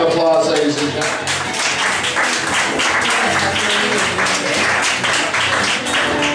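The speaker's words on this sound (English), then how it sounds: "Give her a round of applause" Audience applause and clapping at a live comedy or variety show, a dense, steady wash of many hands that stays loud throughout with some cheering voices mixed in.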